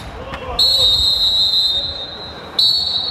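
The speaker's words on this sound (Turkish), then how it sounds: "Hakem düdüğünü çaldı değerli izleyiciler." A referee's whistle ends the first half of an amateur football match in Ankara, one long loud blast followed by a second sharp blast over faint crowd noise.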